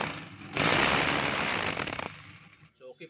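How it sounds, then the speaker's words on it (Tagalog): DeWalt D25032 rotary hammer running in hammer mode, a loud rapid pounding burst lasting about a second and a half, then winding down into clicks and brief speech. "So testing natin yung hammer."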